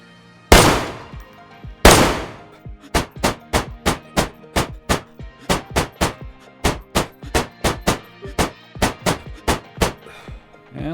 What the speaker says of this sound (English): We got the MK18 with a 100 round magazine.